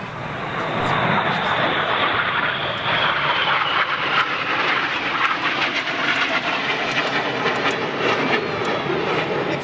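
Loud, continuous jet roar from Red Arrows aircraft trailing coloured smoke through a corkscrew at the Biggin Hill air show, a steady broad rushing sound filling the whole clip with faint commentary beneath.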